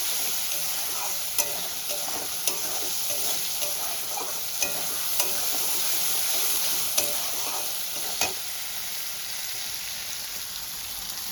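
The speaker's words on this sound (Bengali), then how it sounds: "ভালো করে কষিয়ে নেব। আদা রসুনটা দিয়ে" Chicken sautéing with ginger-garlic paste in a pan gives a steady, even sizzle, with a spoon tapping and scraping the pan every second or so, close by.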